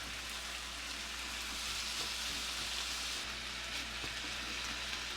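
Lean ground beef and rehydrated mushrooms browning in a pan, a steady close sizzle and crackle with no one speaking.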